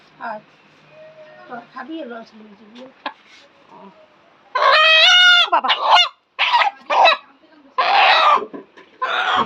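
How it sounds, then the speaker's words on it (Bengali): Domestic village hens cluck and squawk loudly up close in a rural setting, with bursts of calls separated by short pauses and a person talking quietly early on. "দেশি মুরগি"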